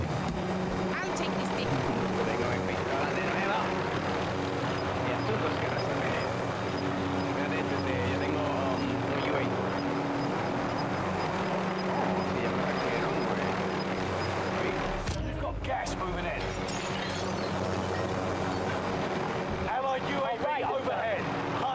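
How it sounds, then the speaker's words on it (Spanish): Helicopter rotor and engine drone in a video game, a steady loud mechanical whir running throughout with a brief burst near the end, while someone talks over it. "Voy a coger el heli para buscarte."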